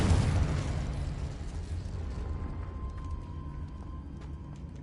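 Fiery spell blasts from the Incendio and Confringo spells in the video game Hogwarts Legacy, a loud burst and boom at the start fading into a lingering low rumble with faint crackles.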